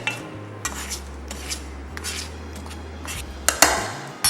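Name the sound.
mixing seasoned chicken with black pepper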